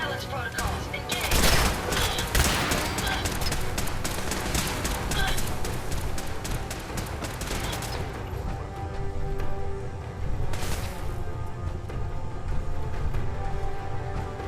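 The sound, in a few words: gunfire in the video game Fallout 4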